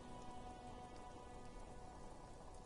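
Steady rain pours in the video game Disco Elysium, a continuous hiss of drops on surfaces, faint and even throughout with no voices.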